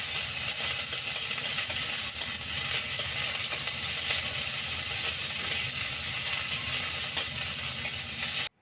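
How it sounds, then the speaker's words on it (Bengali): Onions tempering in a hot kadai with oil, a steady dense sizzle and stir that runs unbroken and fairly loud from start to finish, with no voices over it. "কড়াই দিয়ে দিয়েছি পেঁয়াজ ফোড়ন, কারণ করবো এখন লাফা শাক।"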